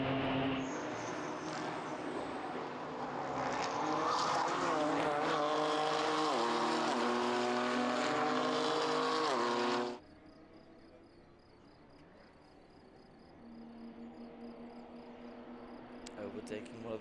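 BMW M2 CS race cars in a Racing Cup Benelux race at the Red Bull Ring roar loudly past for about ten seconds with rising and falling engine pitch, then fade to a quieter distant engine drone while a commentator talks.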